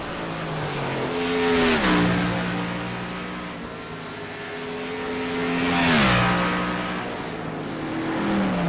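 A Toyota Supra race car engine in a sim racing game, loud and steady, its pitch sweeping up through the gears in two repeated acceleration cycles with shifts between, roaring alone near the listener.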